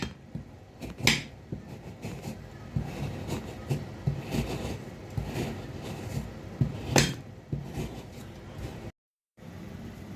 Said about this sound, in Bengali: এখন খেজুরের গুড়টা পিঠার জন্য কেটে নিচ্ছি।